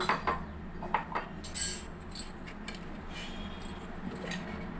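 A wide cooking pot being set onto a gas stove, giving a few light metallic clinks and one brief clunk, quiet and close, with no talking.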